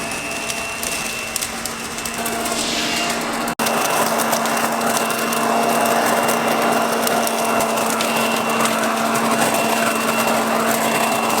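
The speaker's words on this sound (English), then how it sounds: "I feel like he's just vacuuming up the leaves. It kind of sounds like a vacuum cleaner too." A leaf mulcher vacuums up autumn leaves outside a treehouse, giving a steady, loud whirring drone with a constant hum and a gritty crunch of shredding. A brief break interrupts it near the start before it carries on unbroken.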